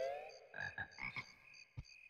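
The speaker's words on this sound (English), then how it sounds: "There's a frog." A frog croaks repeatedly in the swampy Bubblegloop Swamp level of Banjo-Kazooie, a run of short, bright, close croaks with some game music tones ringing above them.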